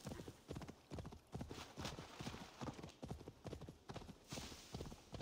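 Horse hooves clip-clopping steadily in Assassin's Creed Valhalla, a brisk regular gallop rhythm that stays loud and close throughout with no talk over it.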